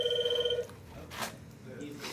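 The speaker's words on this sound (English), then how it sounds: "You want to see me stop the phone from ringing?" A telephone bell rings once in a short, clear trill and cuts off abruptly, followed by quieter room sounds and brief speech.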